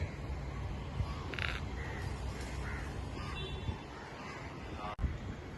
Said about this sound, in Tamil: காக்கா வேற.